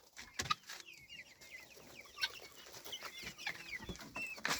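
Several chickens cluck and murmur softly nearby, short repeated calls overlapping at an irregular rhythm, with occasional faint scuffling sounds.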